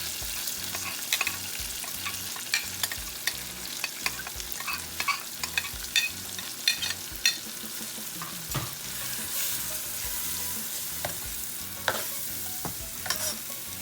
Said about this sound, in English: I'm just gonna let this fry for just a little bit